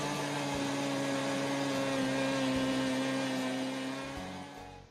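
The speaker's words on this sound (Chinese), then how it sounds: "80克熟的黑芝麻，50克白糖放入破壁机中打碎" A high-speed blender grinding 80 g of roasted black sesame with 50 g of white sugar gives off a loud, continuous motor whine with a steady hum, close by, tapering off at the end.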